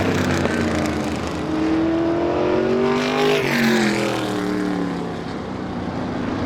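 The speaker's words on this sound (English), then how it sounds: "Lowry's got this one in the books. Checkered flag in the air. Vintage Outlaw Modified" Vintage outlaw modified race cars roar around Star Speedway, engines loud and steady with a rising and falling pitch as they pass close by, alone without talk.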